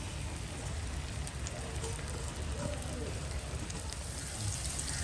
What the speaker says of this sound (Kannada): ಇದಕ್ಕೆ ಶುಂಠಿ, ಬೆಳ್ಳುಳ್ಳಿ ಹಾಗೂ ಹಸಿಮೆಣಸಿನಕಾಯಿಯ ಪೇಸ್ಟ್ ಅನ್ನು ಹಾಕ್ತಾ ಇದ್ದೀನಿ